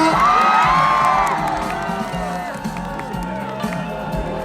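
Audience at a university award ceremony applauding and cheering, loud at first with whoops and shouts, then easing into steadier clapping and crowd murmur.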